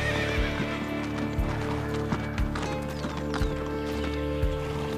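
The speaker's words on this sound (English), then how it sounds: "horses range from their powerful 45 kilometer per hour gallop to the 20 kilometer per hour canter" Wild Brumby horses gallop with a steady, rhythmic drumming of hooves, overlaid by repeated loud neighs and whinnies from the herd, close and continuous throughout.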